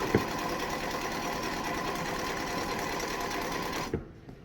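A sewing machine stitching quilt pieces with a quarter-inch seam, a steady fast mechanical whirring hum that runs continuously, then stops abruptly near the end, close up.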